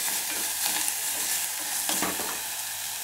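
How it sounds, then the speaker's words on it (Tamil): Vegetables tossed with salt sauté in a hot pan for a kurma, a steady close sizzle with soft stirring scrapes and no voices. "உப்பை போட்டு நல்லா வதக்கும்."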